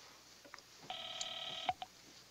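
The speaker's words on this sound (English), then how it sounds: "Call the Felici house." A telephone is dialed in a 1950s crime film, with a few soft clicks followed by a steady sustained dialing tone that ends in a sharp click, all fairly faint and quiet.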